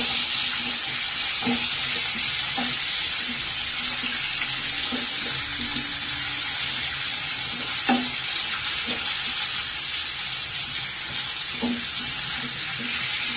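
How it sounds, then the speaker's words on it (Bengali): Pointed gourds for a coconut-stuffed dolma fry in oil one by one, a loud, dense, unbroken sizzle with occasional soft spatula knocks as they are turned and stirred. "আস্তে আস্তে এগুলো একটা একটা করে ভেজে নেব। একটু যদি ভালোভাবে নেড়ে চেড়ে ভেজে নিতে হবে।"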